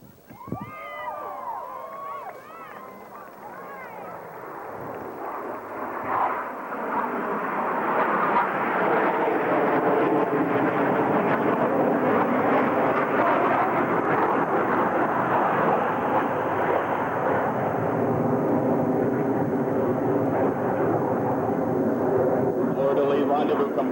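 Blue Angels jet formation in a diamond passing a flight line, a loud broadband roar swelling after a few seconds and holding steady as the jets rush past, with a voice calling out over the start.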